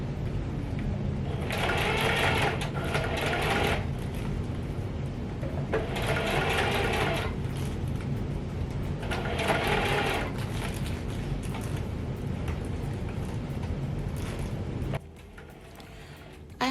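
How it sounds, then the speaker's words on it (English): A sewing machine stitches wig wefts in short loud bursts of rapid mechanical whirring separated by brief pauses, running steadily for most of the stretch before stopping near the end. "I'm just going to go ahead and sew this weft by weft"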